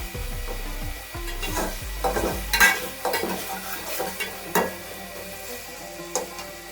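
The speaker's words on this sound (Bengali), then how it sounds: "এক চামচ আদা বাটা দিয়ে দিলাম দিয়ে ভালোভাবে ভেজে নেব" Ginger paste frying in a pan, stirred with a utensil that gives several close scraping strokes and light clinks over a soft steady sizzle, with no voices.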